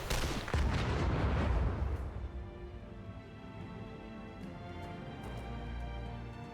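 An explosion in the video game The Lamplighters League hits as a loud, booming blast with crackling debris, then rolls off into a fading rumble over the following seconds, with no talk.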